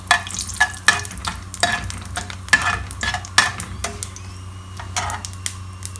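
Cumin seeds frying in hot oil for palak paneer, a steady sizzle broken by sharp crackles and pops and a few stirring scrapes, close and fairly loud with no voices.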